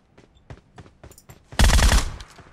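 Groza assault rifle firing in a video game: faint shots precede a loud, dense burst of automatic fire lasting about half a second, with sporadic quieter shots trailing off afterward.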